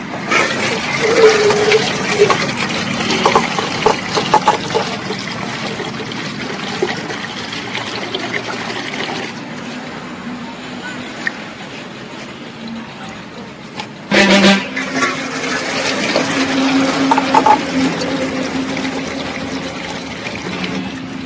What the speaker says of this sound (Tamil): இப்போ க்ளீன் பண்ண இறாவை ஒரு அஞ்சு தடவை வந்து க்ளீன் பண்ணி வாஷ் பண்ணி எடுத்துக்கலாம்